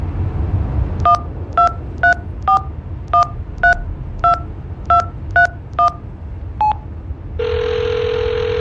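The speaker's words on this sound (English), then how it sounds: "Dial the number." A telephone number is keyed in, about a dozen distinct touch-tone beeps in an uneven rhythm, followed by a steady, louder ringing tone in the Hitchhiker video game.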